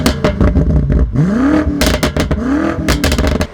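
A 2018 BMW M5 F90 with its 4.4-litre twin-turbo V8 and all-wheel drive accelerates hard, its loud engine note rising and dropping through rapid gear changes, with a deep rumble and crackling exhaust bursts close by.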